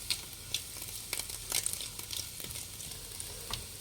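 Onions and mixed vegetables frying in a pan for street-style egg noodles, a steady close sizzle with occasional sharper crackles and stirring scrapes, no voices.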